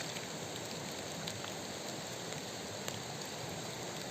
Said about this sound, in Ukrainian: Так, дощі падуть, я тікаю.